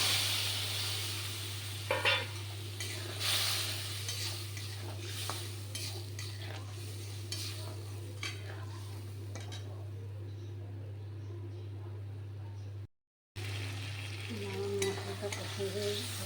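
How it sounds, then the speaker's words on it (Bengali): Potatoes fry in a pan with cumin, chili and ginger, a low sizzle under repeated scraping and clinking of a spoon against cookware, over a constant low hum, with one brief dropout near the end. "আমার আলুটা ভাজা হয়ে গেছে। এবার মশলাটা দিয়ে দেবো"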